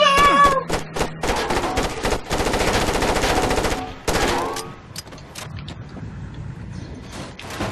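Machine gun fire in the video game Far Cry Instincts Predator, loud sustained bursts with sharp cracks that drop to scattered shots and softer background noise.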